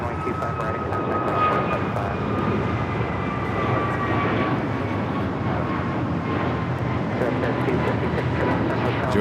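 A Qantas airliner arriving from Lima at LAX airport, its steady engine roar filling the air loudly and evenly throughout, with no talk over it.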